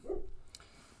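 A dog gives a single short, muffled bark or yelp, close by and fairly faint, with a brief click afterwards and quiet room tone.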